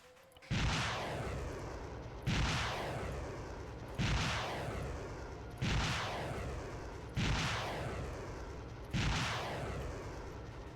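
Missile impacts on a hilltop in Arma 3, five or six heavy booming explosions at steady intervals of about a second and a half, each with a long rumbling decay, loud and close with no talking.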